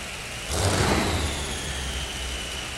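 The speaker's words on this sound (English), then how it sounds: "You hear those familiar Allison aircraft engines firing up." Twin Allison aircraft engines fire up on a modified pulling tractor at a 1995 tractor pull in Louisville, Kentucky. After a moment of quiet the engines catch with a sudden loud burst, then settle into a heavy, steady roar.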